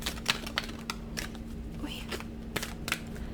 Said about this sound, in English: These cards are huge to shuffle.